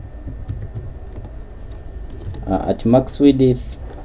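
Computer keyboard being typed on nearby, a quick patter of light key clicks running through, with someone speaking over the keystrokes toward the end.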